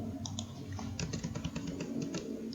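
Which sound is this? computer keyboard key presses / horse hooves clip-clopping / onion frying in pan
computer keyboard key presses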